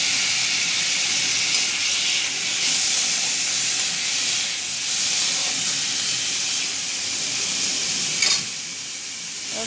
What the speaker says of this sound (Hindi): अभी हमें शिमला मिर्च भी इसमें फ्राई करना है